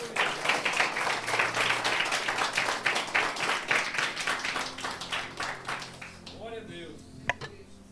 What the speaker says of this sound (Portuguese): Vamos glorificar a Jesus com nossas palmas